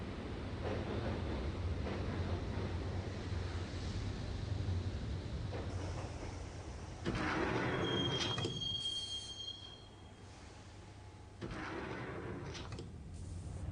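A subway train in the Max Payne video game rumbles and clatters along the rails, with loud bursts of rolling noise and a high metallic wheel squeal about midway, heard from inside the car without talk.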